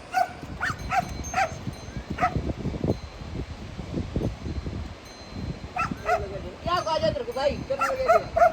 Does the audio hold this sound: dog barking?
yes